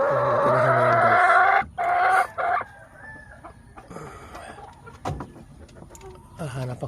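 Laying hens on a farm clucking close by, opening with a loud, drawn-out call, followed by scattered softer clucks and short cries against a quiet background.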